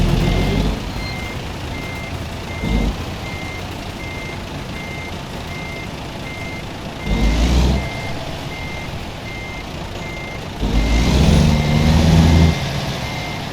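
A truck in American Truck Simulator backs up with a steady, evenly spaced reversing beep running the whole time, while louder bursts of air brake hiss and engine noise come and go beneath it.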